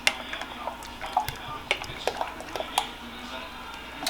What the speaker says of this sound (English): Y'all know how to mix cheese.